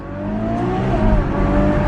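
A stock Mercedes E63S with factory exhaust revs up, a deep close-up engine drone that climbs steadily in pitch and loudness for under two seconds, with no talking.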